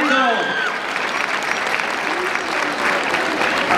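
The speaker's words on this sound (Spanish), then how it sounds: "¡El aplauso bonito!" A crowd at the Feria de La Piña in Villa Purificación applauds for the queen and her manolas, a loud, sustained wash of clapping with a voice calling out over it at the start.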